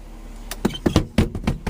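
Power windows on a 1992 Mercedes-Benz 300E lower with a series of short electric motor whirs and thumps, close inside the car.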